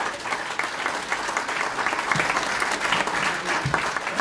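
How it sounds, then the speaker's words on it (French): An assembly gathered for a parish and sanctuary New Year's address in Sainte-Anne d'Auray breaks into warm, sustained applause, a dense even wash of clapping lasting the full few seconds. "Oui, ça on peut applaudir."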